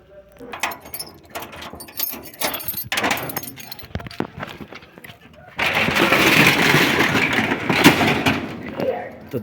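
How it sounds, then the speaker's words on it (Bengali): A shop door being unlocked with jangling keys and pulled open, with light clinks and clacks followed by a louder, steadier stretch of scraping and rattling as the door opens. "দোকান খোলা হয়ে গেছে"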